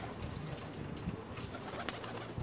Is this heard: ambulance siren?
no